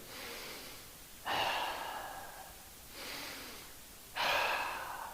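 Slow, deep breaths during a yoga stretch, two full inhale-exhale cycles close to the microphone, each a soft airy rush rising and fading, with no talking.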